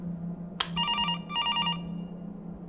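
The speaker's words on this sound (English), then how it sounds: "Answer the phone." A telephone bell rings in two clear bursts, loud and close, over a steady low background hum with no talking.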